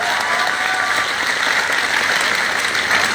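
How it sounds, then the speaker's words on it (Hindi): Dense, even applause from an audience at a motivational business training session, a loud continuous wash of many hands clapping with no break. "दोनों तालियां तो होना चाहिए।"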